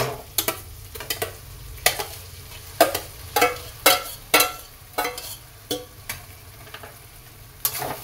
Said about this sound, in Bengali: মুগ কড়াই সিদ্ধ আর ছোলার ডাল সিদ্ধটা দিয়ে দেবো।